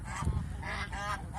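Domestic geese honk loudly and close while gathering to be fed on a goose farm, a short burst of overlapping nasal honks.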